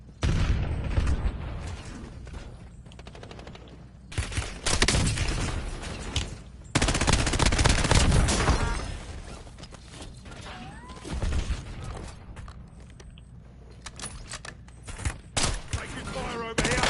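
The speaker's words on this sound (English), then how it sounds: "Taking fire over here." Gunfire bursts in the video game Warzone, loud broadband volleys arriving in clusters around four to nine seconds and again near the end, with game ambience and sparse talk between.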